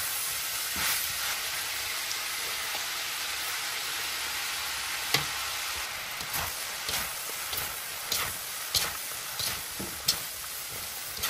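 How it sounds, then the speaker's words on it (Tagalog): Cabbage sautéing in a pan for lumpiang gulay vegetable spring rolls, a steady soft sizzle with occasional scraping and stirring clicks, close and alone with no talk. "pwede na natin ilagay yung repolyo. Huwag natin itong i-overcook para hindi malamog yung gulay"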